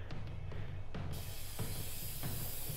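Spray paint can hissing in the game Infamous Second Son, a sustained airy spray that swells partway through, with soft rhythmic thumps underneath and no talking.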